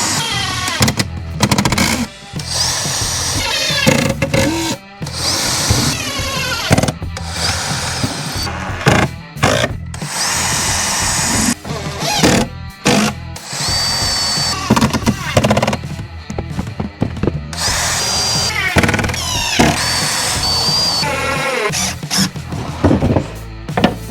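A power drill drives 1.5 inch screws into wood while an egg incubator is assembled, with repeated loud whirring bursts, short stops and knocks between them.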